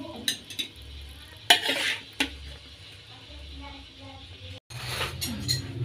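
Utensils scrape and clink against a pan and a plate as stir-fried long beans with anchovies and tofu are served. The contact sounds come in short, close, intermittent bursts over a low background hum.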